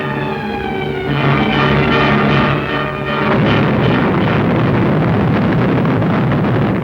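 A 1964 Saturn rocket launch with eight roaring engines, heard as a huge, steady, distorted roar that swells and holds loud throughout, with a tonal hum in the first seconds before broadband rumble takes over.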